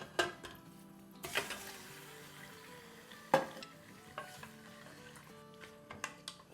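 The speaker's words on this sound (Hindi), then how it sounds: "चले, इसको अब हम फ्राई होने देते हैं।" Medium pieces of goat leg fry in a pressure cooker on a high flame for nihari, a soft sizzle broken by sharp metallic clanks and scrapes of stirring.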